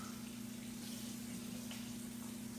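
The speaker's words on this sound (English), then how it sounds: "I'm over here draining my black beans, rinsing them off." Running water rinsing black beans in a strainer as they drain, a steady soft gushing stream with a low hum, close and fairly quiet.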